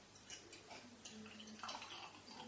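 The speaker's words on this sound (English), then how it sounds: "Now let's have a pour." Young's Double Chocolate Stout poured into a glass, a soft, quiet liquid trickle and gurgle lasting a couple of seconds with faint background noise.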